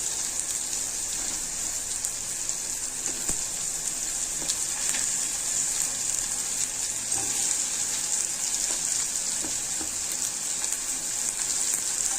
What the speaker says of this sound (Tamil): இதையும் நல்லா இந்த எண்ணெயில் லைட்டாக திரட்டி கொடுத்துட்டு